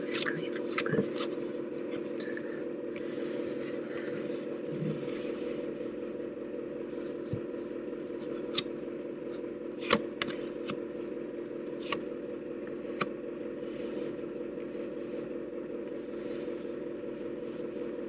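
Tarot cards are spread out across a table with soft scraping, rubbing and shuffling sounds and a few crisp card snaps, all quiet beneath a steady voice talking throughout.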